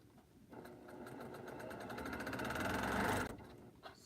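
A sewing machine stitches quilt pieces together in one continuous run, its rapid rhythmic motor whir building in speed and loudness for about three seconds before stopping abruptly, close by with no talk.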